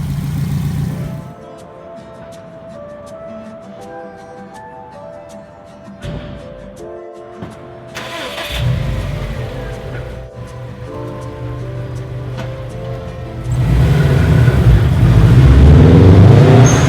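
A 2004 Subaru WRX STI engine idles with a low rumble, then rises into louder revving swells toward the end, heard beneath background music.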